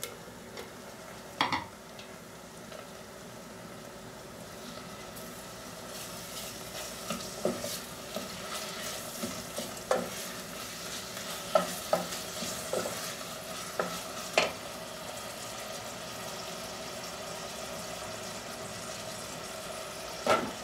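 Minced meat fries in a pan with a steady low sizzle, stirred now and then so sharp clicks and scrapes of a utensil against the pan ring out over the hiss.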